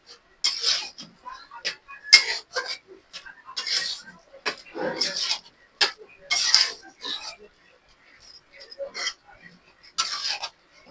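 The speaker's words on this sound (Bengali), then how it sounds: "দিয়ে এগুলোকে ভালো করে নাড়াচাড়া করে নিয়ে" Spoon stirring and mixing salted food in a pot while cooking murighonto, a series of short, separate scraping and clinking strokes with quiet gaps between them, close and moderately loud.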